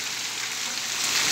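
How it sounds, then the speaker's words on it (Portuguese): Heavy rain pours down in Juru, Paraíba, Brazil, a dense, steady hiss of drops on surfaces that swells slightly louder toward the end, with no voices. "Continua chovendo aqui, muito forte aqui no município de Juru, na Paraíba, Brasil."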